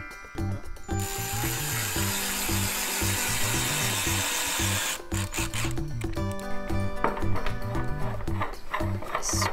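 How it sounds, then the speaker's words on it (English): A power drill whirring in steady bursts as it drills holes and drives screws into a lawn mower toy, with clicking and knocking of handled parts between runs and a voice speaking over the noise. "First we drill the holes, and then we use the drill to put the screws in."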